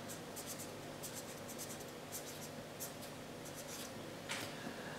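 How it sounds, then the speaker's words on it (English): A pen writes a heading on paper, producing faint, close scratchy strokes in short bursts with brief pauses between words. "let's go on and write that heading down"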